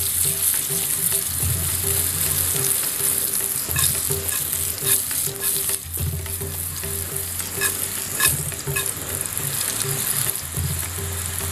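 Small grasshoppers fry and sizzle in a pan of hot oil while being stirred repeatedly, a steady crackling hiss close by with scraping stir strokes, no talking.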